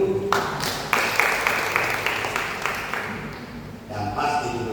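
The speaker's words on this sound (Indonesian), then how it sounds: "Tepuk tangan dulu" Applause from a church congregation at a training session for elders and deacons, a burst of clapping that swells and then thins out, with a voice speaking over the tail end.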